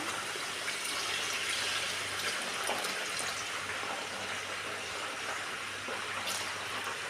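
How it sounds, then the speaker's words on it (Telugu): A continuous rushing of water being poured into a cooking pot, steady and moderately loud throughout, with no voices. "ఇలాగా వాటర్ని అయితే వేస్తాను"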